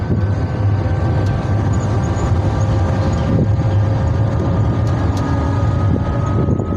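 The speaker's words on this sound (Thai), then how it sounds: "นั่งรถไฟฟ้าไป รถไฟฟ้านี่แหละรถรับส่งเนาะ" Steady rumbling hum of a moving electric shuttle vehicle in Luang Prabang, Laos, a continuous drone with faint rattles and clicks throughout, no talking.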